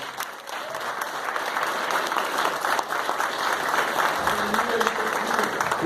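A church congregation applauds together during a worship service, a steady dense wash of clapping that fills the whole stretch at even loudness.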